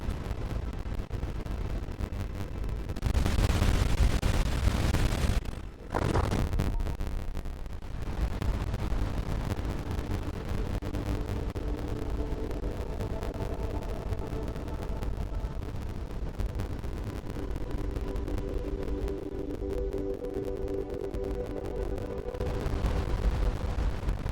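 Spaceship turrets fire continuously in the space game Starcom: Unknown Space, a steady rumbling barrage of booms with a louder burst early on and no talk.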